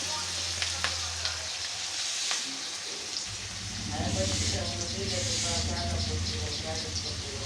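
Food fries lightly in a pan with a steady sizzle, and stirring scrapes come and go as a voice talks over it. The sizzle grows fuller and louder about halfway through.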